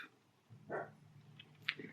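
Dog barking at a delivery person: one faint, distant bark followed by a couple of softer yips in a quiet room.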